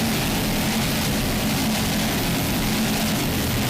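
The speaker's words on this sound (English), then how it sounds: "See Nichols Offshore Super Cat going by on the outside." A Nichols Offshore Super Cat racing catamaran powerboat roars past on rough offshore water, a loud, continuous engine rush with wind and spray noise throughout.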